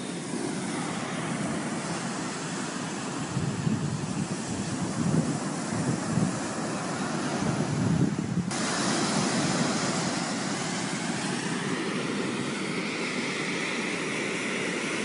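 Steady broadband surf of ocean waves washing in, with a rushing, wind-like wash that rises slightly midway and continues without break, no voices present.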